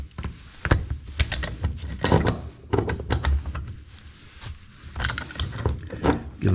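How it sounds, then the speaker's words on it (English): A wrench cranking down on a gas pipe fitting while a lower pipe is held in place: close, irregular bursts of metallic ratcheting clicks and scraping with short pauses between turns. "that holds the bottom pipe in place while I give it a good cranking"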